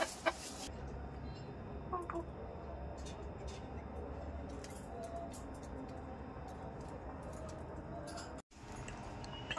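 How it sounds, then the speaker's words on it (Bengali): Chickens cluck softly and steadily at close range while eating, with a brief sharp sound near the start and a quick cut near the end. "মুরগিগুলা খাচ্ছে"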